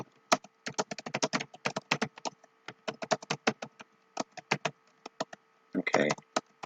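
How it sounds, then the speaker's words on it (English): Fingers type on a computer keyboard, quick bursts of close, crisp key taps with short pauses between runs and a faster flurry near the end. "they begin to start typing"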